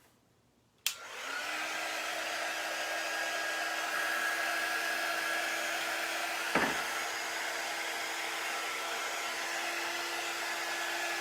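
A hair dryer switches on with a sharp click and runs steadily at close range over a reusable Chalk Couture board, a continuous whirring blow with a brief knock partway through and no talking.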